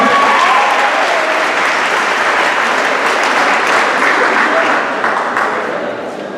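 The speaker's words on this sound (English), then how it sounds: "Big round of applause." Sustained applause from a crowd greets a goalkeeper being introduced at an all-star game opening ceremony, dense and steady throughout and slowly tapering off near the end, with a voice faintly audible over it.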